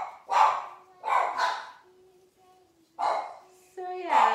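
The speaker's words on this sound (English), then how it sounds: "They're my dogs. They bark." Small dogs bark in short bursts in a home kitchen, a few sharp yaps spaced apart with a thin whine between them, close and moderately loud.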